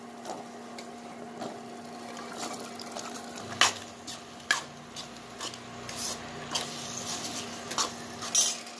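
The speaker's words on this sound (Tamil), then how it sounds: "இந்த ஸ்டேஜில் சன்னா போட்டுடலாம்." Chickpeas (channa) tipped into masala in a pan and stirred, giving scattered clinks and scrapes of a utensil against the pan over a steady hum in a quiet kitchen.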